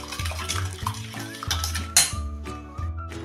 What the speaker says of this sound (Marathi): हे आता चांगलं मी फेटून घेते.